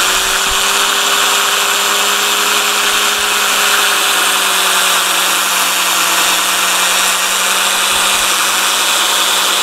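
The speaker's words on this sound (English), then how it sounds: "the drill can act as its own power source for rotating the bowl" A loud, continuous power drill whine runs throughout, with a steady hum and slight pitch drift, the drill spinning nonstop while rotating a red oak bowl for sanding.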